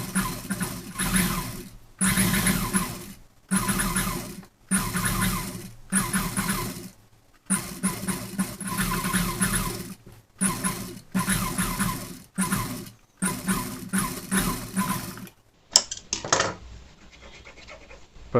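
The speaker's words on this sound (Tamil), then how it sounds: "இப்போ நம்ம டபுள் தையல் போட்டோம் கழுத்தில்." Sewing machine stitching a double seam around the neckline of a blouse, running in repeated bursts of mechanical whirring separated by brief pauses, close and fairly loud, with no talking.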